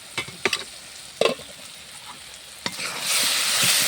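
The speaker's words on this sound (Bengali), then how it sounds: "আমি এভাবে নাড়াচাড়া করে দিলাম" A dry curry of eggplant, potato and cauliflower is stirred in a pan, with a few sharp spoon knocks against the metal over a low sizzle that swells into steady frying toward the end.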